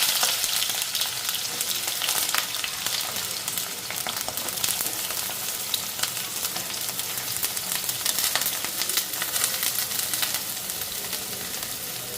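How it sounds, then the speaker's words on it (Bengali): Eggplant slices sizzle and crackle in fully heated oil, a loud, dense, steady frying hiss with scattered pops that runs unbroken throughout, no voices over it. "আগে বেগুনটা ভাজু পরে আলুটা তেল পুরা গরম হয়ে গেছে"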